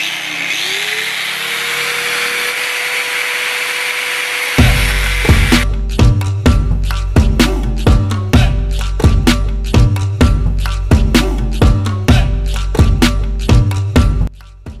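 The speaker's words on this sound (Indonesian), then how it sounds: "sekarang kita gerinda sebelah kirinya" A power tool winds up and whines, then rhythmic harsh grinding bursts repeat loudly as an angle grinder cuts a metal motorcycle body panel, close to the microphone.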